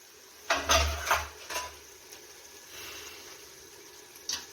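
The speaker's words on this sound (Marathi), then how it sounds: "आपले झाकण काढूया" A metal lid clanks and rattles as it comes off a pot of cooking cauliflower and peas, a few quick close knocks followed by softer clinks, fairly quiet with no talking.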